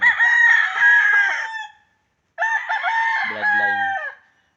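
A pure white Kelso rooster crows twice, loud and close, each crow a long strained call with a clear pause between them, no talk.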